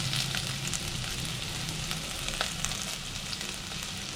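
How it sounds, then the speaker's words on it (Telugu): Food for chicken biryani fries in hot oil, a steady close sizzle with crackling and the occasional stir, heard alone without talking. "వేసుకొని ఫ్రై చేసుకుందాం."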